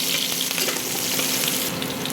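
Onions sautéing in a pan for sinigang sa miso with matambakon fish, a steady close sizzle with faint scraping as they are stirred, continuous throughout and no talking.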